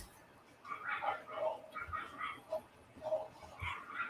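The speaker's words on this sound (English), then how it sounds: "there's two dogs going at it outside my window" Two dogs fighting outside a window, heard from indoors as a distant scuffle of yips, growls and whimpers, faint and irregular throughout.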